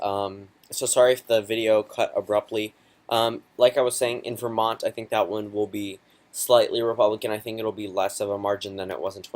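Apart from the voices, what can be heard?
No distinct noise like a dog, phone or traffic.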